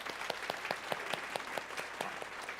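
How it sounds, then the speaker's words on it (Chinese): A church congregation claps in blessing, brisk irregular hand claps spread through a room at moderate, somewhat distant volume. "我们来为他们来拍手来祝福"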